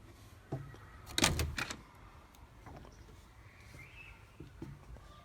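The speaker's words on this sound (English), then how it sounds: "So we head inside the door, so we'll open the door." The wooden door of an Asmund log cabin is opened. A loud latch clatter and rattle sound close by, then lighter knocks and faint creaks follow over quiet room tone, with no voices.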